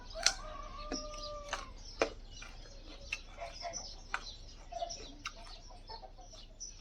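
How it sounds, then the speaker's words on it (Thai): Chickens cluck at moderate distance over a low, steady outdoor background, and a rooster gives a drawn-out crow near the start, followed by scattered short clucks and calls. "แต่ว่าเสียงไก่เสียงยังโอ้ยดังดีเลยค่ะ"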